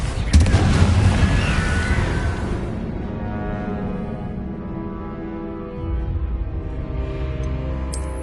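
Confringo fire spells explode in the Hogwarts Legacy video game, a loud booming burst at the start that rumbles and decays into a lingering tail, with a voice calling out.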